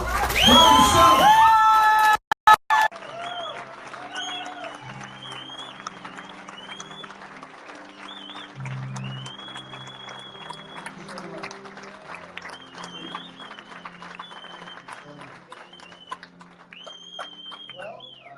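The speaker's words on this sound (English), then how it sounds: "please give me a round of applause" Rally crowd in Las Vegas applauding and cheering a speaker's introduction, with a loud burst up front, then sustained clapping, whoops and shouts continuing steadily throughout, a voice briefly heard at the start.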